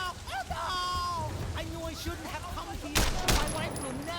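Gunfire from the video game Sleeping Dogs, two sharp loud bursts close together near the end, over game music, ambient noise and speech.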